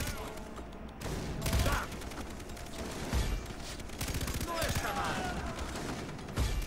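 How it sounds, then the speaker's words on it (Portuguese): Rapid gunfire rattles through a Far Cry 3 co-op match in dense, sustained bursts with a few louder shots, while players talk over it. "tô atirando pra cá também"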